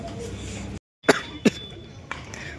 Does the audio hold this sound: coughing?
yes